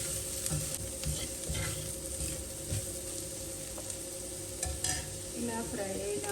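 Chicken sausage fries with spices in a pan, giving a quiet, steady sizzle with occasional stirring scrapes and small clinks of the utensil.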